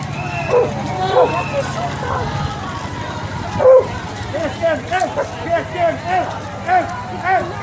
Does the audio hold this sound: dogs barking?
yes